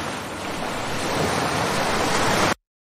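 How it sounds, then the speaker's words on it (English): A bucket of ice-cold water is poured over a person, a loud continuous rushing splash that swells and then cuts off abruptly. "Why you pour a bucket of ice cold freezing water on me?"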